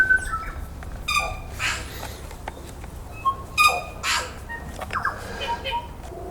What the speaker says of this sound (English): Can you hear that tui?